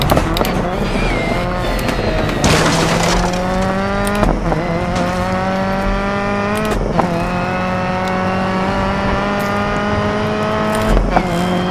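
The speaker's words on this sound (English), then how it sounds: "I love this little Subaru." A Subaru rally car in DiRT 4 revs hard through its gears, the engine tone rising and then dropping at each shift, with gravel and impact noises at intervals.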